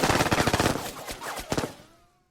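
Rapid bursts of gunfire from the Vietnam-era tactical video game Lock N' Load Tactical, Heroes of the Nam, crackle in a dense volley, then a final pair of shots that trail off into a fading echo.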